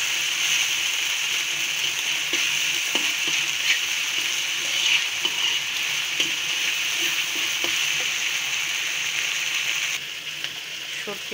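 Ginger paste and spices fry in oil in a steady, close sizzle, with a few scrapes of stirring and light clinks scattered through, the hiss easing slightly near the end.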